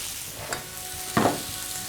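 Medium deveined shrimp with tails on drop into a hot pan, giving two bursts of sizzle over a steady, fairly quiet background hiss, the second burst louder and fuller.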